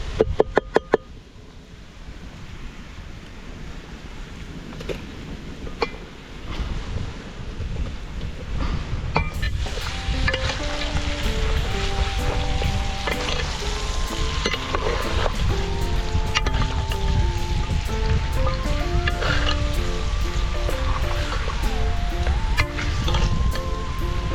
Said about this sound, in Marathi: असा चांगला कांदा भाजला की हळद मीठ आपण लावून ठेवलेलं पंधरा वीस मिनटं मटण हे त्यात टाकायचं